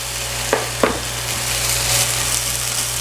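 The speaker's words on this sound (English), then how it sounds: "The onions and the peppers and the shallots is frying up nicely." Onions, peppers and shallots frying in a pot for corn mutton, giving a steady, even sizzle throughout with two brief clanks of a utensil early on.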